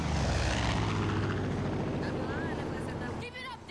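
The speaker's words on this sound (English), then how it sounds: "Take out those planes." Propeller aircraft engines drone loudly in the video game Far Cry 2, a steady close roar that fades slightly near the end as other game effects cut in.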